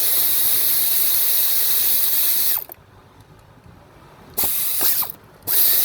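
Ratchet wrench loosening the intake manifold bolts on a Chevrolet Cruze 1.4L engine, close rapid clicking bursts separated by short quiet pauses.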